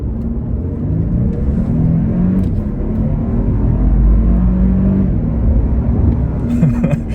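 A Toyota Land Cruiser accelerates hard with a loud, continuous engine rumble and whir heard from inside the cabin. The drone holds steady, swells a little midway, then eases toward the end.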